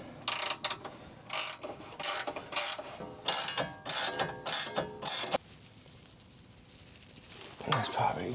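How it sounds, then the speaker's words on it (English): A hand ratchet tightens suspension bolts on a Ram ProMaster van during a wheel bearing job, giving about ten close, loud bursts of rapid clicking. A quieter pause follows, and then one last short ratchet. "Now we can tighten the rest."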